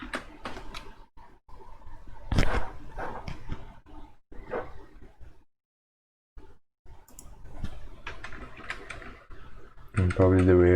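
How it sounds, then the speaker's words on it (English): Keyboard typing while coding in JavaScript, a patter of key clicks that comes in bursts and mostly sits under a voice talking, with a short silent gap partway through. "And probably the way I'm typing this is wrong."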